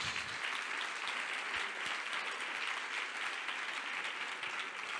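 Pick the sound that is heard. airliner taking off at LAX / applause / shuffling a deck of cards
applause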